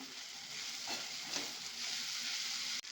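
Kasuri methi frying in a pan with mashed tomato gravy, a steady soft sizzle and bubbling hiss with faint stirring scrapes, close and quiet, ending in a brief sharp clink.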